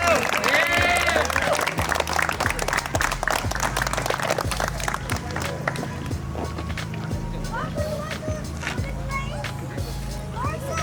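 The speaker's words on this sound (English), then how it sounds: "Let's give a round of applause for him, please." Applause at a community fundraiser event, scattered clapping and crowd noise with cheering early on, thinning out over time while voices talk through and a low steady hum continues underneath.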